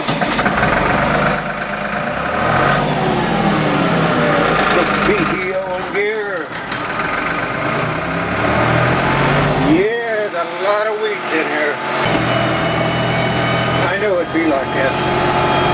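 A mower engine runs steadily while cutting a weedy ten-year-old clover food plot, a continuous droning hum throughout, with a voice talking over it in places.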